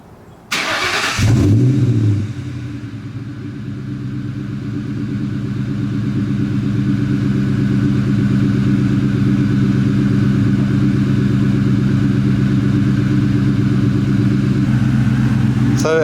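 A New Edge Ford Mustang GT V8, catalytic converters still fitted, cranks and fires up with a sharp burst. It then settles into a loud, close, steady rumbling idle that runs unbroken for the rest of the time.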